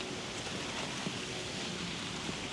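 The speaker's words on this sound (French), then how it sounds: "Il pleut, ça devient sérieux là." Steady rain falls, a dense, even hiss of drops on surfaces with no pauses.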